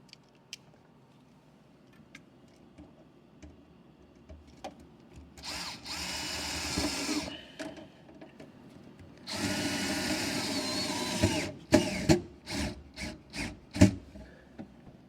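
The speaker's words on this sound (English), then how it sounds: "you're going to use the self-tapping screws, and we're just going to drill it into the wall." A power drill driving self-tapping screws into the wall of a bass boat, with two sustained whirring bursts followed by a string of short, sharp trigger pulses, close and loud.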